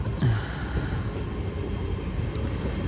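IET train at Totnes station, a steady low rumble of the railway passing close by, continuous and fairly loud throughout with no talk.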